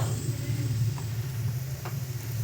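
Turmeric, dried red chilli and coriander powders go into a pan of sizzling masala for a pomfret curry and are stirred in. A steady close frying hiss runs throughout with a couple of faint spoon scrapes and no talk.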